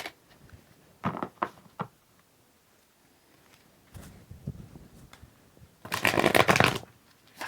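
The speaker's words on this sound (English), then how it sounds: "I'm going to give it a little bit of a shuffle." Tarot cards are shuffled in several short bursts: a few quick riffles early, a softer shuffle midway, then a longer, louder riffle near the end.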